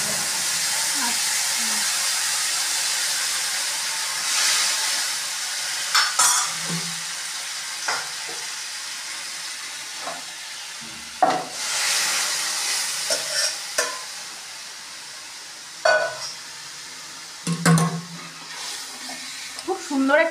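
Arhar dal tipped into hot oil with asafoetida and garlic, a steady loud sizzle and hiss of frying with scattered spoon stirs and scrapes against the pan, and someone talking over the cooking.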